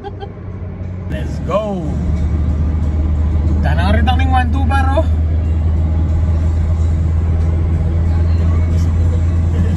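Heavy Sunday traffic of cars heading back to Manila rolls along as a constant low engine and road rumble heard from inside a vehicle, with people chatting loudly over it throughout.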